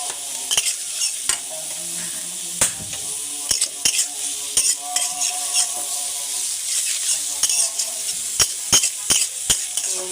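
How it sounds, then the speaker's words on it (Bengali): Onions frying in the same oil just used to fry hilsa fish, a steady close sizzle broken by sharp clicks and scrapes of a spoon stirring in the pan, with no talk. "যে তেলে মাছটা ভাজছি ওই তেলে হচ্ছে পেঁয়াজটা ভেজে নিতেছি।"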